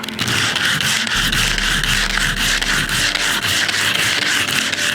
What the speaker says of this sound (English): But let's take the sandpaper.